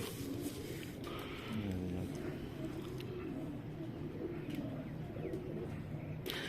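Pigeon cooing from a champion rooftop racing pigeon, a low soft repeated coo that keeps going through the whole stretch over faint background noise, with no clear speech.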